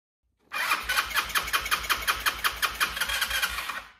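A cheap Chinese scooter engine cranks over and over without catching, a steady rhythmic chugging of about sixteen fast strokes for more than three seconds, close and fairly loud, then stops.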